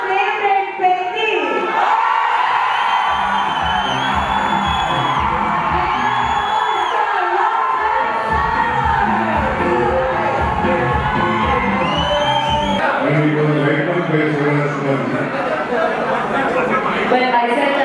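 A crowd at a Bengaluru press meet for Janhvi Kapoor whoops, cheers and shouts loudly and without a break. Mixed voices and excited cries rise and fall for the whole stretch, close and dense, with no distinct clapping standing out.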